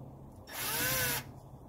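A power drill backs out a screw inside a 1985 Mercedes 300CD: one close, loud whirring burst of under a second, with quiet surroundings before and after.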